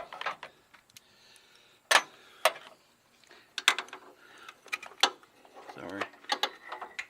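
Ratchet wrench with a swivel socket working a nut on a Jeep Wrangler grille, giving short sharp clicking bursts at uneven intervals, close up and fairly quiet.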